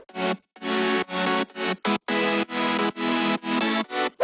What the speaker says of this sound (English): These are some basic chords,